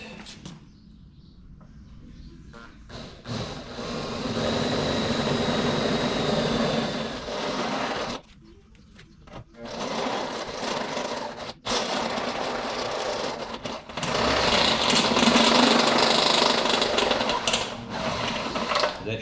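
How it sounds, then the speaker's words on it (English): A power drill whirs in long sustained runs, rising and falling as it bores a 16mm hole for a snorkel on a Ford Ranger PX, close and loud with brief pauses between passes. "I'll drill the appropriate ones, the 16mm size"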